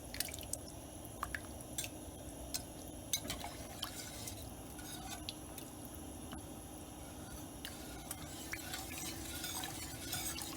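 Cheese melting down into a creamy soup in a pot, with a soft, steady wet bubbling and sloshing as it is stirred, punctuated by light clicks and drips, low in level and without any voices.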